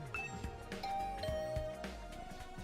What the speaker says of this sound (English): I rang the doorbell to Tsubasa's room.